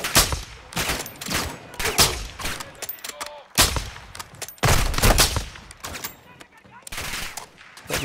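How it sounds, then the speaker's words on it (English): Enemy gunfire in Call of Duty Modern Warfare II rattles in rapid close bursts and automatic volleys, overlapping and repeating with brief gaps, with some speech in between. "Be careful because they're shooting me from there"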